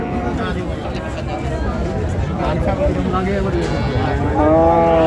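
Friesian and crossbred bull calves moo loudly at a busy cattle market in Dinajpur, with repeated calls rising over crowd babble and the talk of people nearby.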